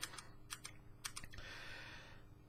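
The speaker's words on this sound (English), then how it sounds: "after pressing this switch a couple of times, as if I was typing normally" Tactile Cherry MX mechanical keyboard switch pressed a few times like normal typing, a handful of sharp close clicks followed by quieter taps, faint and alone over a low hum.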